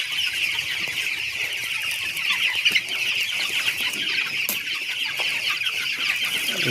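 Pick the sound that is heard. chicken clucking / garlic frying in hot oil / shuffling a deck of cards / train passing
chicken clucking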